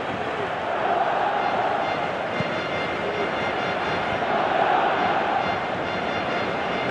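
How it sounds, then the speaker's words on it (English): A stadium crowd in the PES 2018 video game, FC Barcelona versus AS Roma, with a continuous wash of roaring spectators at steady volume and no clear peaks. "you can hear how the crowd are reacting to this too."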